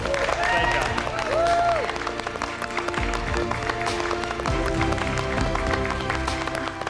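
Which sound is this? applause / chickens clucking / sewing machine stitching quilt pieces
applause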